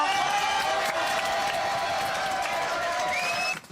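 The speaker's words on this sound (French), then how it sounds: "Applaudissements." Studio audience at a French television variety show applauds continuously, a sustained wash of clapping and crowd noise with a faint tonal hum underneath, cutting off abruptly at the end.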